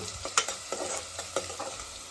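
Onions frying in a pan for roadside egg rice, with crackling sizzle and several sharp stirring scrapes of a spatula in the pan.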